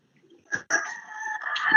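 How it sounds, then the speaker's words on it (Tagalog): A rooster crows once, loud and fairly close, the drawn-out call rising after a brief cluck, heard during an online meeting with no speech over it. "Kanino ang manok yun?"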